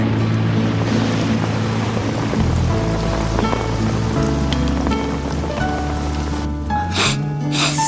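Steady rain falls in a cartoon scene, a continuous soft wash of drops running under a music score throughout, with a sharp splash-like burst near the end.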